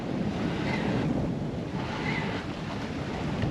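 Steady breeze and wash of sea waves around a small sailboat on a solo Pacific crossing toward Hawaii, with constant wind rumble on the microphone and continuous surf-like swells, no voices.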